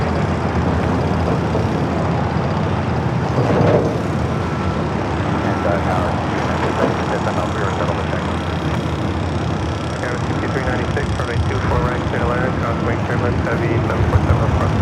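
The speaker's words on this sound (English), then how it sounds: "Heavy 747 approach to the runway." A heavy Boeing 747 on approach to the runway at LAX, its engines a loud sustained rumble and whine with a swell near the start, while radio voices speak over it.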